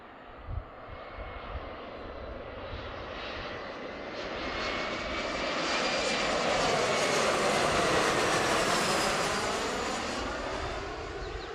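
A Delta Embraer E175 jet passes at Seattle airport, its engine roar building from a distant hiss to a loud, broad whine with a shifting tone, then easing slightly as it moves on.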